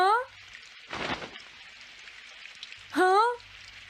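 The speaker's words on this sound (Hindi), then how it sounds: "काश ये बारिश जल्दी से रुक जाए" Cartoon rain falls steadily in a light hiss with a brief heavier splashing burst, while animated characters speak and a short whistling sound effect rises at both the start and the end.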